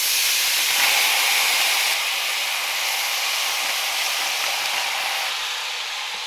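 Fresh spinach hits a hot pan and sizzles loudly as vegetarian spanakopita filling cooks, a dense, steady hiss that eases off slightly toward the end.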